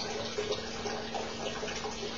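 Water discharges steadily from a tank into a measuring container, a continuous even rush of flow that stays constant throughout with no pauses or talk.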